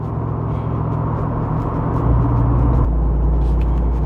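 Jeep Wrangler Rubicon 392 with a Hemi V8 accelerating, heard from inside as a loud, steady low engine rumble and drone that deepens and shifts in pitch partway through, with no talking.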